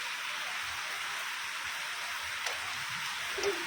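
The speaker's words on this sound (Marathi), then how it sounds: "पहिल्या दिवशी हा पाऊस पडतो आहे" October rain falling in Kankavli during a thunderstorm, a steady hissing wash of rainfall at an even level, with no voices and no clear thunder.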